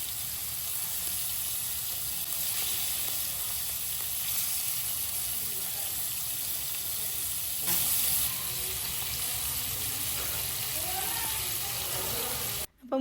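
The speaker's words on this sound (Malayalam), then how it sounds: "ഇനി ഒരു പാൻ ചൂടാക്കാൻ വെച്ച് അതിലേക്ക് ഓയിൽ ഒഴിച്ച് ചെമ്മീൻ ഫ്രൈ ചെയ്തെടുക്കാം." Prawns fry in hot oil in a pan for a Malabar prawn biriyani, a steady close sizzle running throughout with a brief louder burst midway and a short break near the end.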